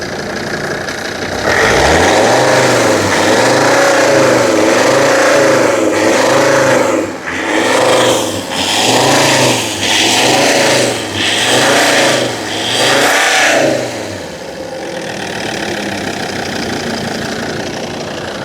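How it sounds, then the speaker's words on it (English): A Volvo XC90 engine with a diesel particulate filter fault idles, then revs repeatedly in a series of rising and falling surges, about six in a row, before settling back to a steady idle. "Let's try that again, a few more revs."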